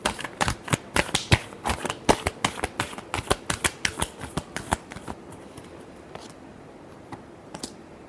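Tarot cards being shuffled by hand, a fast run of crisp riffling snaps and flutters, close and fairly loud, thinning out to a few scattered taps near the end.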